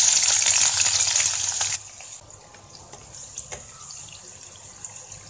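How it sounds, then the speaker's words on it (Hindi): Chopped onions dropped into hot oil heated over a medium to high flame for a potato-tomato curry, giving a loud, steady sizzling hiss that drops to a quieter crackle after a couple of seconds. "अब हम इसमें प्याज डालेंगे,"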